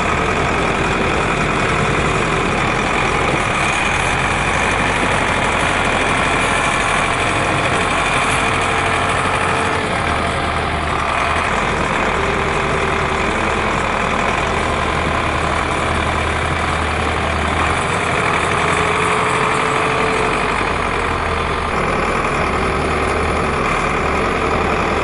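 Tractor engine running steadily throughout while pushing snow toward a pond in winter, a continuous droning rumble close by with no talking.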